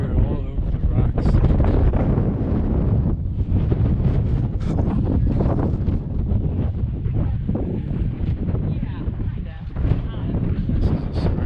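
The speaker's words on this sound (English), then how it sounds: "It stayed very windy." Loud, continuous wind buffets the microphone in rough gusts and rumbles for the whole stretch at a rocky desert petroglyph site in Utah, with no clear speech.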